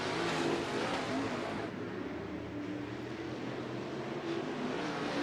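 Race cars at Bakersfield Speedway during the Budweiser Nationals heat racing, a faint, distant engine drone that rises and falls as cars work through the turns, with no talk over it.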